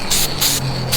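Three short bursts of hissing copper spray from an aerosol can in quick succession, close and fairly loud, with brief gaps between.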